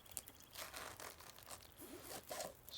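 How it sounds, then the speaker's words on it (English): In The Long Dark, a hacksaw cuts into frozen meat with quick, raspy strokes that come close together, quiet but near, with scraping and tearing textures and no voices. "since we now have the hacksaw, I can do the whole thing. Since it's frozen, this is going to cut very quickly"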